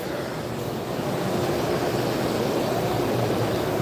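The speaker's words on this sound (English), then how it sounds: "A big ass fan booth." A huge industrial fan in a trade-show booth at the SEMA auto show blows air in a loud, steady, broadband roar, heard up close and alone with no talking.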